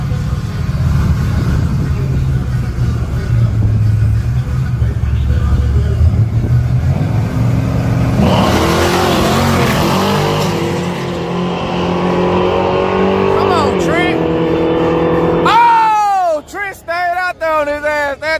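Drag racing cars, including a Mustang, launching down the strip with a loud engine roar and rising revs that shift through gears, followed by sharp tire chirps, while people talk and cheer nearby.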